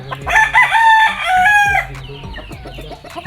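An F1 yellow-legged gamefowl rooster of a Peacock sweater line crows once, loud and close, in a long harmonic call, with faint clucks and scratchy yard noise following.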